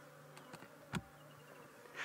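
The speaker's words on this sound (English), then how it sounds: "the buzzing of flies" Flies buzz around a pile of tar-like stinking dung outdoors, a faint, thin drone with a few brief passes flaring up as they fly near, and no voices.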